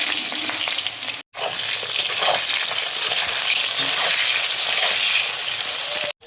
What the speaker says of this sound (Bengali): এবারে দেখো বেগুনটা আমি তেলের মধ্যে দিয়ে দিচ্ছি।